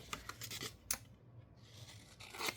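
Scissors trimming white paper while decorating a junk journal, a run of quick close snips and rustling cuts, a brief sharp crunch partway through, then more snipping near the end; no talking.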